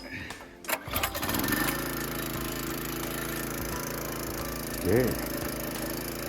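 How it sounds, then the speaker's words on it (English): A log splitter's small engine catches and settles into a steady running drone after a few uneven bursts at the start, close and fairly loud, with a brief spoken word near the beginning. "Time to fire up the engine."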